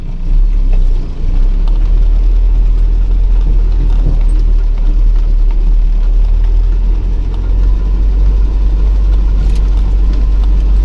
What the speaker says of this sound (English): So I've just got my feet off all the pedals, 3 low, and let the engine do the braking